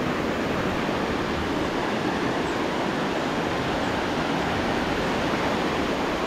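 Didupe Waterfalls roars close by in a loud, unbroken rush of falling water that stays even from start to finish, with no voices.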